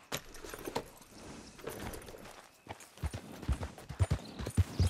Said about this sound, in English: I'll ride our horse up there.